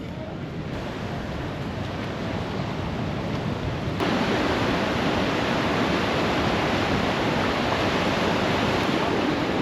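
Ocean surf rolls onto a beach as a continuous broad wash of wave noise, steady and fairly loud with some wind, growing slightly stronger partway through.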